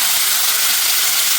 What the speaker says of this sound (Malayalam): പാൻ ചൂടാക്കിക്കൊണ്ട് നെയ്യ് ഒഴിച്ചു കൊടുക്കുക. അതിലേക്ക് കുറച്ച് കറിവേപ്പിലൊക്കെ, പിന്നെ അരച്ചു വെച്ച പുളിവെള്ളത്തിൽ അരച്ചു വെച്ച കൂട്ടുണ്ടല്ലോ അത് ഒഴിച്ചെടുക്കുക.